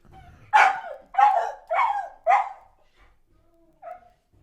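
A dog barks four times in a quick, evenly spaced series, loud and close, followed by a pause and one softer final yip.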